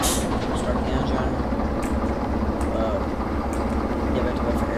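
A diesel shunting locomotive's engine rumbles into life in a railway simulator set in a harbor yard, a loud, steady low idle with a chugging pulse, broken by a few faint clicks.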